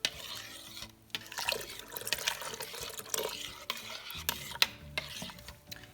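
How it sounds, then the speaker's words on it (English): Water poured a little at a time into maple syrup boiled down in a backyard sugar shack, a close stirring, trickling liquid sound with small splashes and clinks, continuous with no talk. "so I'm just gonna pour a little bit in at a time."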